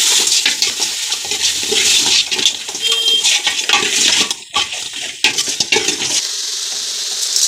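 Country chicken with onion, curry leaves and turmeric is stirred in a pan over loud, steady frying sizzle, with the scrape and clink of the spoon against the pan through the sizzling.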